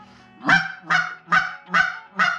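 Five goose-call clucks, evenly spaced and fairly loud, each a short honking burst with a squeaky edge, coming from close by with no talking.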